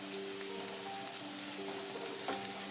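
Chopped potatoes sizzle and fry steadily in hot oil in a pan for a simple home-style vegetarian lunch, with a few soft stirring scrapes over the constant close crackle and no voices.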